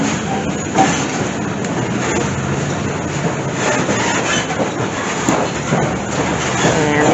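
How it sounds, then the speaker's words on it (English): Rolling, rumbling rail noise with occasional clicks fills the interior of a Lehigh Gorge Scenic Railway train near Jim Thorpe, a steady close-up din that runs without a break and has faint voices beneath it. "And this is what we are on right now. Everyone here on the Lehigh Gorge Scenic Railway."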